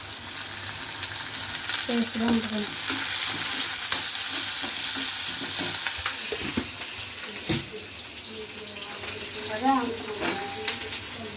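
Fenugreek seeds fry in hot oil for a Godavari-style brinjal curry, giving a steady close sizzle with intermittent scraping and stirring clatter from the pan.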